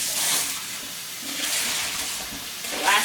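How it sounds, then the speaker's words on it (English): Cold tap water runs over tomato seeds as they are rinsed, a steady hissing splash with a few louder bursts, close by and alone. "I use cold water to rinse"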